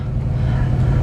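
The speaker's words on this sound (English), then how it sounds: "I'll let the car warm up for right now" A Foxbody Mustang with a Holley Terminator X setup and upgraded throttle body idles while warming up, a steady, close, low engine rumble with no talk.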